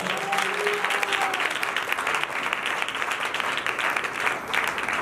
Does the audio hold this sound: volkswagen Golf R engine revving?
no